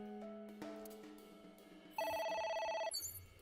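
A telephone rings in the video game AI: The Somnium Files, a quiet electronic trill sounding in one short burst of about a second after a few soft musical tones, with no voices.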